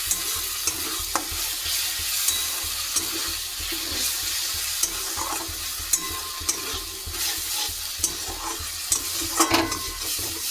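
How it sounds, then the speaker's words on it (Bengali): Spices with Kashmiri chili powder and meat masala stir-fried in a pan for chicken curry: a continuous close sizzle broken by frequent scraping spatula strokes, with no voices. "মিট মশলা আর একটুখানি কাশ্মীরি গুঁড়ো লঙ্কা দিলাম হালকা মশলাটাকে দিয়ে কষিয়ে নেবো"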